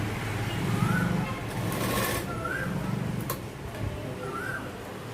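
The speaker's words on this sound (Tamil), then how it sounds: "கழுத்து மட்டும் பரட்டி டபுள் தையல் போட போகிறோம்." A tailor's sewing machine runs a double seam around the neck of a blouse jacket, a close, steady mechanical whir with soft rhythmic ticking that pauses briefly and resumes.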